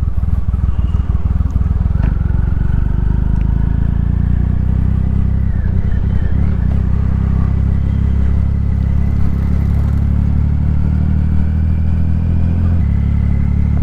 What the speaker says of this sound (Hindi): This bike is roaring like anything.